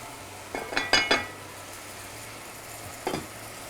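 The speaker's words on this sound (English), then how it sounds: "now is the time to put the stock in it and start cooking with the stock" Stock poured into a pot of Yakhni Pulao brings a few sharp clinks and splashes over a low, steady background sizzle, with one more clink a couple of seconds later.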